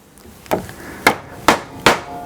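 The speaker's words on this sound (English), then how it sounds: "so I can bang the T-nuts in here" A hammer drives T-nuts into drilled plywood while fitting a Fiamma Porta Kassett rack: five sharp, loud, evenly spaced whacks about half a second apart, close up with no talk.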